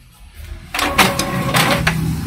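An office printer runs while printing business cards on A4 paper. A quiet start gives way to whirring feed and mechanical clunks that carry on steadily at close range.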